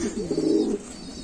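A Lahori fancy pigeon gives a single soft, low coo, fairly quiet, against faint background noise in a pigeon farm.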